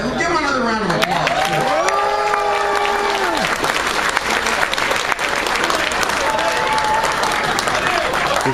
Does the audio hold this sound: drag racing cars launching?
no